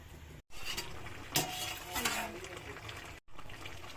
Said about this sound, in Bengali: এই তো বলক এসে গেছে